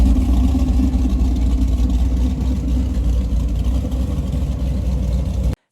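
A fully restored bright yellow 1969 Chevrolet Camaro with black hockey stick stripes runs steadily, its engine a loud, continuous low rumble that holds for several seconds, then cuts off abruptly.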